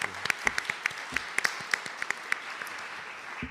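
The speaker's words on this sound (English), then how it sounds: "So a round of applause for James." Audience applause after a panel introduction at the L.A. Times Festival of Books, a moderate crowd with distinct near claps standing out over a steady wash of hands, fairly quiet overall.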